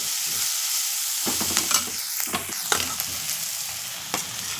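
Onion, garlic masala and turmeric sautéing in a pan as a steady sizzle, with repeated spatula scrapes and stirring clicks close by.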